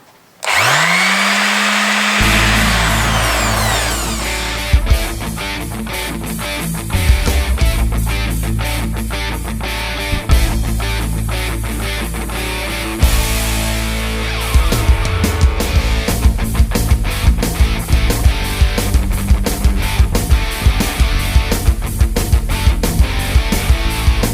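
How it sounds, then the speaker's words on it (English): Power sander working a boat compartment surface, spinning up with a rising whine, then running as a loud continuous drone with rapid rattling bursts as it presses against the surface. "It needs a good sand down"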